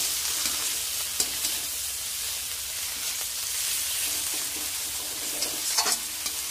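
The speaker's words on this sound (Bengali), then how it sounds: "একটু টমেটো কাটা দিয়ে ভালো করে মশলাটাকে মাখিয়ে নেব" Masala with chopped tomato for a rohu fish and potato curry is stirred in a hot pan, making a soft continuous sizzle with occasional light scraping taps, fairly quiet and without talk.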